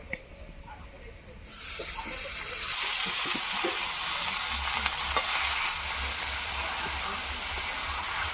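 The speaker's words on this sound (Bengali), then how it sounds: "সেই মাছ মাখাটা দিয়ে দেবো।" Marinated small tengra fish hitting a lightly oiled wok, a quiet start that bursts into loud steady sizzling and spitting, with scraping stirs and occasional clinks over the continuous fry.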